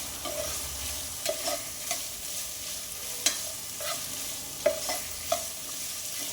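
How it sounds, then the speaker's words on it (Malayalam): Onion, green chili, ginger and garlic stirred in a pan for a beef curry, a quiet steady sizzle punctuated by regular scraping clicks of the spoon against the pan, no talking. "ഉള്ളിയിലെയും പച്ചമുളക്, ഇഞ്ചി, വെളുത്തുള്ളി ഇതിൻ്റെയൊക്കെ പച്ചമണം മാറണം. അതിന് വേണ്ടിയിട്ടാണ് ഇളക്കി കൊടുക്കുന്നത്."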